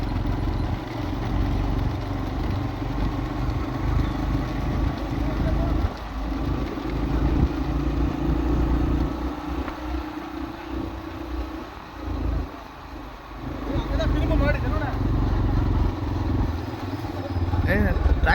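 A tractor engine runs at a village vehicle race in Vallanadu, Thoothukudi district. A low, continuous motor rumble holds throughout, with voices talking over it outdoors.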